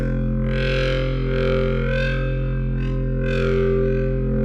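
A heavily distorted bass wobble synth made in Ableton Operator with the drive turned up drones and wobbles in slow rhythmic pulses, gritty and loud, with bright swells rising and falling over a sustained low tone.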